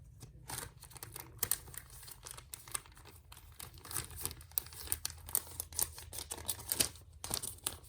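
Scissors cut into a plastic treat bag, producing close, irregular snips mixed with sharp crinkling and rustling of the thin plastic throughout.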